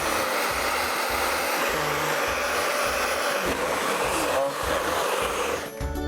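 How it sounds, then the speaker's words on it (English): A normal hair dryer blows loudly and steadily while drying a Labrador dog during grooming, its airy whoosh paired with a pulsing low hum, cutting off abruptly near the end. "I'm using a normal hair dryer."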